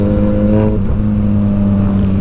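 Kawasaki Ninja 1000SX engine on the road, a loud steady harmonic drone with a brief shift in pitch partway through, heard up close with strong wind rumble.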